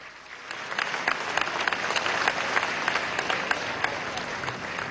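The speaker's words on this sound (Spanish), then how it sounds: "Ernesto Villegas Poljá, un aplauso Ernesto Villegas Poljá." An audience at a political rally gives sustained, dense applause, steady and fairly loud from start to finish with crowd noise mixed in.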